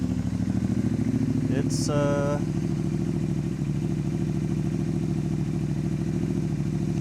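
A project motorcycle's engine runs steadily at a fast idle throughout, close and loud, with a short burst of a higher mechanical squeal partway through and a brief spoken word over it.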